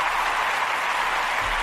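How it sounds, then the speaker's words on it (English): Applause from a small group fills the whole short moment as a steady, dense wash of hand claps, without any distinct individual claps standing out and no talking over it. "Can I get some claps for that?"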